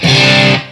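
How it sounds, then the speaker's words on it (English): A single sustained note or chord rings from a Fender electric guitar through a boost or overdrive pedal with mild distortion, loud and close, holding for most of a second before cutting off. "Mild distortion."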